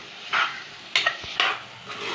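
Chopped meat for Madurai-style kari dosa being stirred and sautéed in oil in a pan, with quiet sizzling and a few sharp scrapes and clinks of a spoon against the pan.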